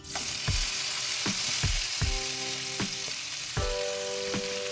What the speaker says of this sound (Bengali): তেলের মধ্যে আমি সমস্ত সবজিগুলো তিন চার মিনিট ভেজে নিচ্ছি